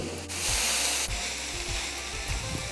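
Tater tots and sausage sizzle in a skillet on a Blackstone griddle, giving a loud, close, steady hiss with a few soft scraping strokes underneath.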